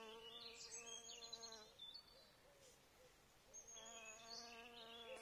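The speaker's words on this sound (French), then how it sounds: "c'est un bourdon qu'on vient d'entendre arriver" Bumblebee buzzing in a garden in May, a steady harmonic drone arriving and hovering close by, fading briefly mid-way then returning loud, with a few faint bird calls.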